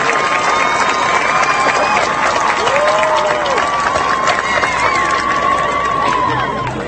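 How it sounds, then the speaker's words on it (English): A commencement crowd applauds and cheers for engineering graduates, a continuous loud mass of clapping with whoops and shouts rising over it, sustained throughout in a large reverberant venue. "give a round of applause to the students graduating"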